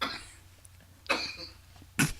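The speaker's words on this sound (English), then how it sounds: "Can you ask him to cough a little bit louder?" A man coughs in a podcast studio: three short, separate coughs, each a quick harsh burst, fairly faint and distant from the microphone.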